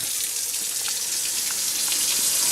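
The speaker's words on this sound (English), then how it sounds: "as you can see, when I turn on the water," Water runs steadily from a newly installed faucet into a sink in an R-Pod RV, a close, continuous hissing splash with no talk over it.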